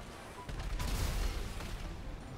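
Gunfire in GTA V Online during an RPG versus Insurgent fight: a cluster of sharp shots and booms swells in the middle and fades, with voices talking over it.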